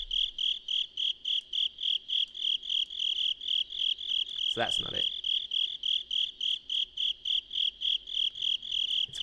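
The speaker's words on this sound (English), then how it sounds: "I hate when we're getting duplicate crickets." Steady, evenly spaced cricket chirps in a video game shrine, loud and near throughout, with a brief spoken remark cutting in around the middle.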